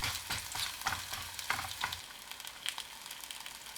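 Batter-coated napa cabbage frying in a preheated, oiled pan, a hissing sizzle with a few crackling pops and stirring scrapes at first, then a steadier, softer frying hiss.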